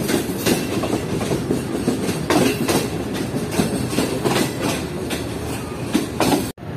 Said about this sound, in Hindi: फाइनली हमारी ट्रेन अप्रोच बना रही है डिग रोड जंक्शन रेलवे स्टेशन पर।